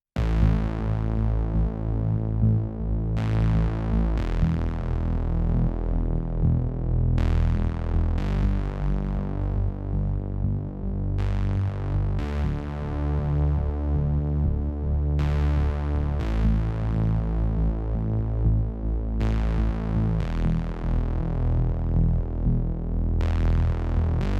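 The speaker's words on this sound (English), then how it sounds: "And everything, all the basses together sound like this." Several bass synths in an Afro House track play together in a thick, loud, sustained groove, with notes shifting every few seconds and a steady throbbing low end throughout.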